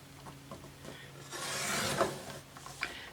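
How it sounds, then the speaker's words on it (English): A paper trimmer slides across a card with a short, soft scraping sweep at close range, followed by a few light taps and clicks. "I just trimmed off that little bit and made my card even"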